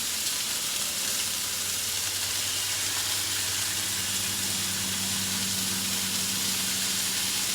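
Food frying in a pan while being basted, a steady, continuous sizzle and hiss at even loudness from start to finish, with a low hum beneath and no talking.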